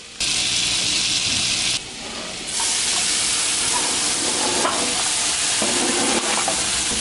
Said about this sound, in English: I'm going to put the onions in and let that saute.